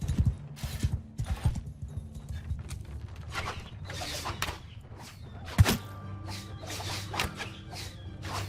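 Horses' hooves clip-clopping across a battlefield in the medieval combat game Bannerlord, with a busy scatter of uneven hoofbeats, thuds and clatter throughout and no clear speech.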